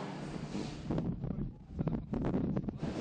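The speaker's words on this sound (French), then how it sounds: "Il y a beaucoup de vent." Gusty wind buffeting the microphone in loud, uneven rushes and low rumbles over three seconds, with brief lulls between the stronger blasts.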